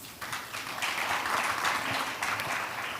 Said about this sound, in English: please welcome her and our panelists with a big round of applause